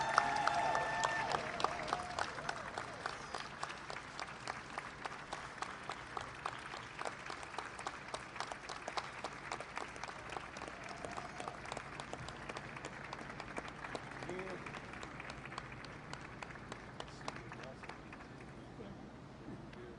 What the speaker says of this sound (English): Let's give Anthony another round of applause.